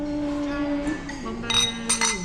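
Glasses clink in a toast over dinner among friends, two bright, brief chimes close by near the end, set against a continuous humming background tone.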